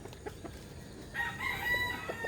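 A rooster crows once, a drawn-out call rising over a quiet outdoor background at moderate distance, with no talking.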